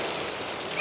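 Steady, dense rain hisses in a scene from the 1950s film The Long, Long Trailer, a brief, even wash of falling water with no voices heard.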